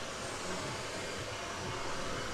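A hair dryer blows steadily during hair styling for a cousin's wedding preparations, a constant close broadband whoosh with no break and no talking.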